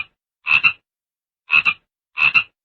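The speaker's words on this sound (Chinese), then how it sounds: "看到湖中荷叶上趴着一只蛤蟆" A toad croaking from a lotus leaf on a lake: three separate double-pulsed croaks, evenly spaced, close and clear, with silence between them.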